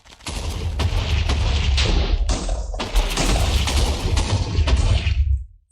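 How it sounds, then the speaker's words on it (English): In Minecraft with an Avatar mod, a line of explosions goes off in a rapid series of loud booms one after another, sharp and close, then the blasts cut out into silence. "Create a line of explosions that appear one after the other in the direction you're looking."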